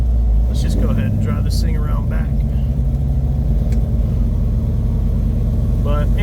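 Supercharged 496 engine in a 1972 Chevelle idling, a loud deep rumbling lope that holds steady throughout, with someone talking over it.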